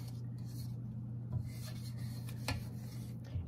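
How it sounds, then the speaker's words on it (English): A spatula scrapes down the sides of a mixing bowl of butternut pound cake batter, giving soft, continuous rubbing and rasping with a few light clinks, close and steady with no talking. "now what we're gonna do, we scrape down the sides here"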